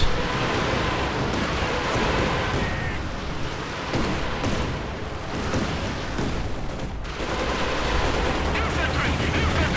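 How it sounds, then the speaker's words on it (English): Katyusha rocket artillery firing in a Company of Heroes-style strategy game, a dense roaring wash of launches and explosions rolling continuously, swelling and dipping at moderate loudness with no clear gaps. "Still got the 2 Katyushas, and they're about to fire away."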